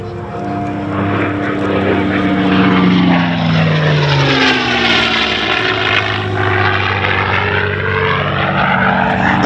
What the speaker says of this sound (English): As Scooter Yoak brings the P-51 down the show line for the 4-point hesitation roll.